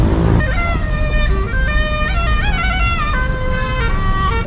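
Morning road traffic in Tirana streams past with loud engine rumble and a chorus of overlapping car horns and toots sounding at varying pitches throughout.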